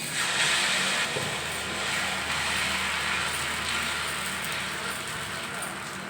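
Batter made from mudakathan greens with small onions, garlic, tamarind, chili and salt sizzles on a hot griddle, a steady, loud, close hiss holding evenly throughout without pause.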